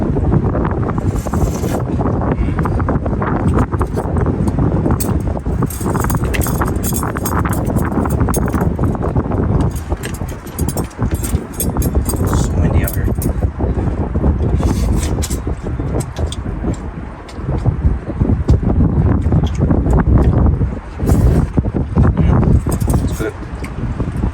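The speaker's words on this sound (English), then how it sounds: "It's windy out here." Strong wind buffeting a microphone outdoors on a solo northern pike fishing trip, a continuous loud low rumble with gusty surges throughout, and a voice occasionally talking over it.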